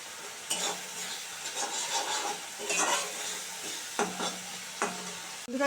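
Spice paste frying in oil in a pan for a prawn and spinach dish, cooked until the oil separates: a steady bright sizzle with soft stirring scrapes and a few sharper clinks near the end.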